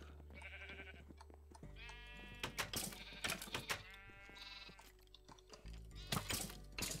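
Loud, repeated sheep bleats from the Minecraft Voltz modpack, several overlapping calls over a steady low game background hum, with a few clicks between them.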